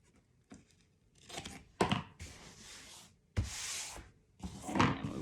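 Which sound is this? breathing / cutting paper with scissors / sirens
cutting paper with scissors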